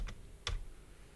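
Two crisp key taps on a computer keyboard during AutoCAD work, quiet and close, the second slightly louder, with near silence between.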